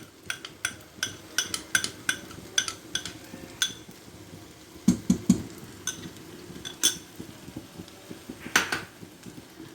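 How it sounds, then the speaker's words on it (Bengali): Condensed milk mixed with other ingredients for banana chira sondesh: a spoon clinks and scrapes against a bowl in a steady series of sharp taps, with a thicker stirring scrape midway, close and moderately loud. "কনডেন্স মিল্ক অন্যান্য উপকরণের সঙ্গে মিশিয়ে নিচ্ছি।"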